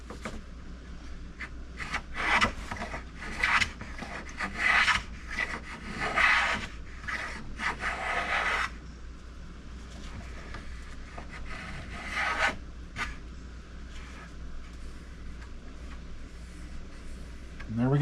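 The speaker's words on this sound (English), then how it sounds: "I'm just planing a section right there. It's so small, I'm just going to use the number 1." A small number 1 hand plane shaves a short section of wood, making repeated scraping, rasping strokes in bursts, close by, then easing to quieter rubbing toward the end.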